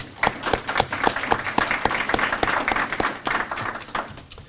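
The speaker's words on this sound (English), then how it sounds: "Let's give them a round of applause." A crowd at a grand opening ceremony for a college band hall and safe shelter claps steadily in a sustained round of applause. It is fairly close and loud and carries no talk.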